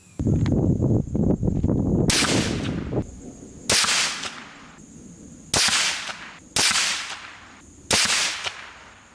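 A group of five rifle shots, each a sharp, loud crack with a decaying echo, fired at uneven intervals of a second or two, with some earlier handling noise before the first shot.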